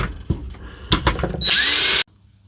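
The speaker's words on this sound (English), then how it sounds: "First thing we do is get out the screws, and they're T15 screws." A power driver backing T15 screws out of a Dewalt DCS367 saw: a few short clicks and taps, then a loud whining burst of the motor for about half a second before it stops abruptly, close up.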